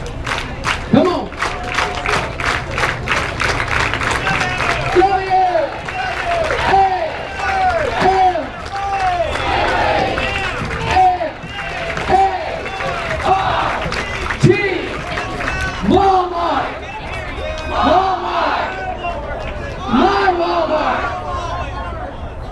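A large crowd at a Walmart Supercenter grand opening in Oklahoma City shouts the Walmart cheer, rhythmic call-and-response bursts of many loud voices repeating steadily with a lively hubbub between the shouts.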